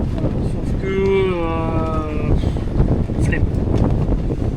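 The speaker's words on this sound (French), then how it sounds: "il y a juste là qu'on commence à toucher un peu de vent" Wind rushes across a sailboat at sea with its mainsail lowered, a low blustery rumble against the microphone, joined briefly by a drawn-out voiced tone.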